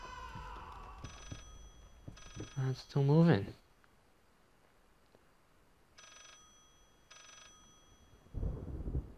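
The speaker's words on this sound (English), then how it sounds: "And the phone's ringing again." An old telephone rings inside the horror game Layers of Fear in two pairs of short electronic trills, fairly quiet, while someone speaks briefly between the rings.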